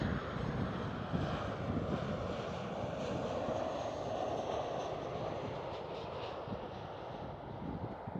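A Ryanair airliner lands at Schiphol, heard as a faint, continuous jet rumble and rushing roar that stays steady throughout, distant and without talk.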